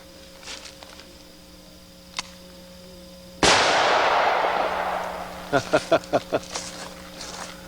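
A single sharp, loud gunshot from a 3-inch revolver firing a .460 Rowland load, cracking out and ringing into a long decaying echo, with a few brief clicks and knocks close by afterward.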